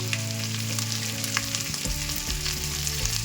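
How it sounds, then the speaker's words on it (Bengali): Onions frying with green chillies and cashews in a pan, for a pepper chicken dish, give a steady close sizzle with occasional stirring scrapes and no voices. "এবার এটাকে কিছুক্ষণ ভেজে নেবো খুব বেশি ভাজবো না আমি হালকা লাল লাল করে ভাজবো"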